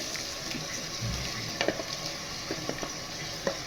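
Steady sizzling of ground masala frying in hot tempering oil for tomato bath, with occasional scrapes and taps of a spoon stirring in the pan, close and continuous.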